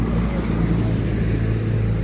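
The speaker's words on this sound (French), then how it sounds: "il y en a des bagnoles" Steady road traffic along a riverside quay in Neuville-sur-Saône, with cars rumbling past continuously at close range, a constant low engine drone with no pauses.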